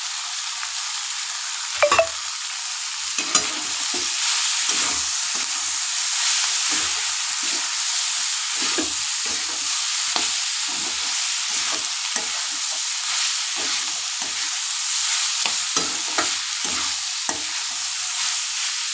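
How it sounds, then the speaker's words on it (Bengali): Soybean chunks and sweetcorn fry in a pan with a constant bright sizzle, while a spatula scrapes and stirs in irregular strokes up close. No voices are heard. "সয়াবিনটা একটু নাড়াচাড়া পরে আমি সুইটকর্নটা দিয়ে দিলাম"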